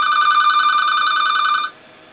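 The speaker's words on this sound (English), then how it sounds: "I'll wait till the phone stops ringing here." A loud electronic telephone ring from the video game NBA 2K12, with a steady, buzzing tone that cuts off abruptly partway through, followed by quiet.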